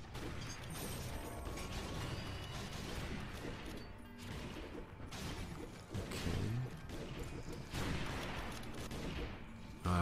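Rapid gunfire and mechanical clatter in the Secret Ponchos video game, dense repeated bursts of shots and impacts running through the whole stretch at a steady, moderately loud level without talk.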